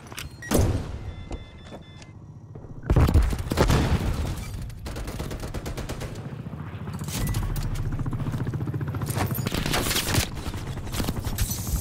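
In Black Ops Cold War multiplayer gameplay, LAPA SMG fire comes in rapid automatic bursts of loud gunfire. Booms and game noise sound between the bursts, and a long sustained volley builds toward the end.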